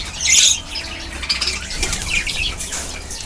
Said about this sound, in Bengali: এই দেখুন কনুর এসছে